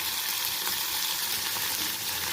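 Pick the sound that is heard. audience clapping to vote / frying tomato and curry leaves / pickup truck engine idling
frying tomato and curry leaves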